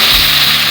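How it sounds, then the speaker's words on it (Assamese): Spice masala with tomatoes fries in a pan, giving a loud, close, continuous sizzle with a steady hiss and no voices over it. "মছলাখিনি সুন্দৰভাৱে এতিয়া ভাজি ল'ব লাগিব"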